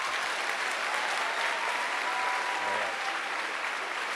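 An audience applauds a speaker at a gathering with dense, even clapping that stays loud and steady throughout, with no talk over it.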